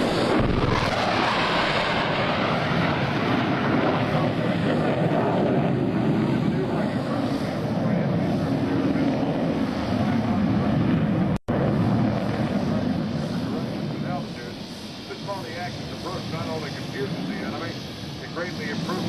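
F-14 Tomcat fighter jets of Fighter Squadron 213 making a low section level pass at a 2004 Navy airshow at NAS Oceana, a loud sustained jet roar with wind buffeting, while an announcer talks over it.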